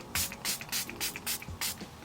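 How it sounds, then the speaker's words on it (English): Seven short bursts of an oil-control makeup setting spray from a fine-mist bottle, evenly spaced and close, each a quick hissing puff. "This should be oil control fixing spray"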